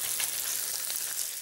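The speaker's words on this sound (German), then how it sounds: "Und dann lege ich uns gleich mal da einer zum Anbraten" A beef steak sears in melted clarified butter in a hot pan, giving a steady close sizzle and crackle of frying fat with no voices.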